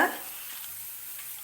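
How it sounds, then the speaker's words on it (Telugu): Tempering spices hitting hot oil, a brief initial burst followed by a soft, steady sizzle close by. "ఇందులోకి మనం పోపు సామాన్లు వేసుకోవాలి"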